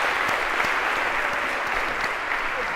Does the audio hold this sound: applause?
yes